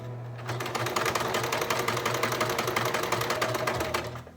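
A sewing machine stitches a fabric hem for Christmas gift wrap, starting after a brief pause and running as a rapid, even mechanical chatter before stopping near the end.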